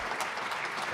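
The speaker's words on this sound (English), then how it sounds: "a round of applause" Conference audience applauding the organizing and technical support team, a dense, even crowd clatter heard briefly and fairly close.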